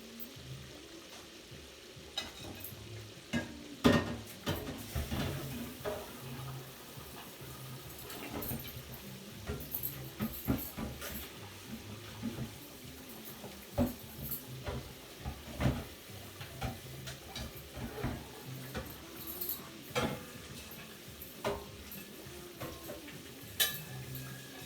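Tilapia fish fries in a pan at home, giving a continuous crackling sizzle with frequent sharp clinks and scrapes of a utensil against the pan throughout.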